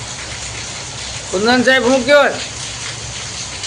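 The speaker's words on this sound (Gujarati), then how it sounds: "વરસાદ પાછો વધ્યો છે." Rain falling harder outside, a steady broad hiss that continues throughout, with someone briefly speaking over it in the middle.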